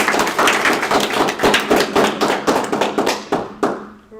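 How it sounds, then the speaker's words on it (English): Audience applause at a middle school spelling bee, a steady wash of many hands clapping close and fairly loud, thinning out toward the end. "give everyone a round of applause"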